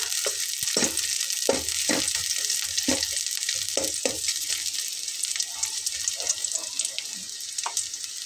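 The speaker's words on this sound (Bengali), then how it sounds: "পেঁয়াজটা ভাজা হতে হতে এর ভেতরে শুকনো মরিচ দিয়ে নেব।" Sliced onion and dried chilli frying in a pan for a pointed gourd bhorta: a continuous bright sizzle with periodic clicks and scrapes of a stirring spoon against the pan, close-up, no voices.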